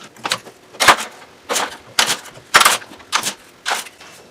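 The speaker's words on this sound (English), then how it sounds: "let me take the clamps off of this" C-clamps being loosened and taken off an epoxy-glued segmented wooden board, heard as a series of sharp clicks and knocks, about eight distinct close hits spaced roughly half a second apart.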